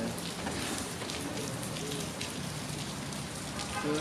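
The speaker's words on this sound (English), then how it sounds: "know where the rain just came from." Steady rain falling outdoors during a sudden shower, a dense continuous hiss of drops on surfaces, fairly close and unbroken, with no talk over it.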